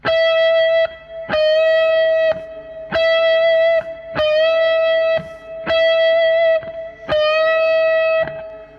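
Electric guitar notes ring out with heavy reverb and distortion, six sustained chords struck in a steady rhythm, each decaying into a wash of echo.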